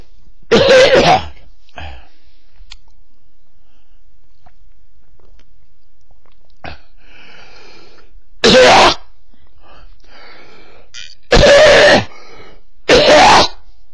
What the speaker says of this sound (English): this is the worst thing you can do to clear your throat